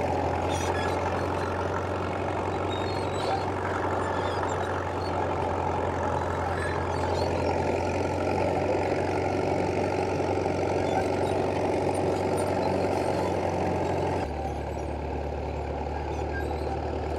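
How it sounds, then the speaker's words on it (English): Caterpillar D2 crawler tractor pulling a Ransomes two-furrow plough at a ploughing match, its engine droning steadily and fairly close, with a slight drop in tone near the end and no talking. "Here we've got a Caterpillar D2 with a Ransom's 2-furrow plough on the back."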